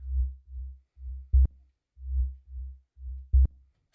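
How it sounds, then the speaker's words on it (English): A very basic sub bass line programmed in Ableton plays alone, low rounded notes in a repeating phrase of four, each bar closing with a short, punchy accent. "So let's hear the sub first. This is a very basic sub line."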